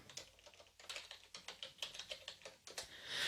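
Fingers type a folder name on a computer keyboard in a quick, steady run of close, soft key clicks with no talk.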